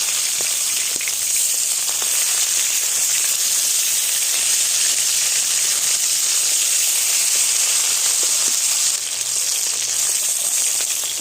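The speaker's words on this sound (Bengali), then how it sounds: "মাছগুলো উল্টে দিচ্ছি" Flipped bhetki fish pieces keep frying in hot oil, a steady hissing sizzle that holds nearly constant throughout, with a faint tick or two and no talking.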